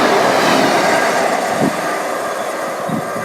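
A Class 156 diesel train passes through a station at night, a loud continuous rumble of wheels and engine filling the clip, fading slightly toward the end with faint rail clatter.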